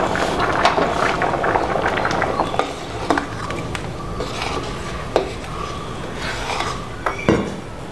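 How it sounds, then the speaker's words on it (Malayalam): A curry of cucumber, mango and jackfruit seeds coming to a boil in a pot, with a soft bubbling hiss under scattered metallic clinks and scrapes of utensils against the vessel. "ഇതാ കറി പതഞ്ഞു തുടങ്ങി"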